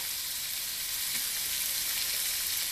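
Tofu hits a hot pan with garlic and green onion and gives off a steady, dense sizzle and hiss that stays level the whole time, close by with no talking.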